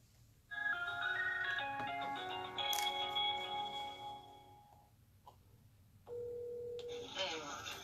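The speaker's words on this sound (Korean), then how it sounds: "전화를 한번 또 갖는 시간을 갖겠습니다" A telephone is dialed to place a call live during a Korean FM rock radio show: a series of clear electronic tones steps through different pitches, then a steady ringing tone follows.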